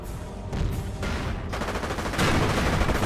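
Rapid overlapping gunfire and machine-gun bursts from the World War II strategy game Company of Heroes, during the St. Lo mission of the Normandy invasion campaign. The fire is dense and continuous and grows heavier partway through.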